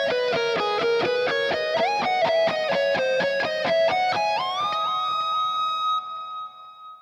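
Distorted electric guitar plays a lick at a slow pace: a loud, steady run of evenly picked notes climbing in pitch, ending on a long sustained note that slowly fades.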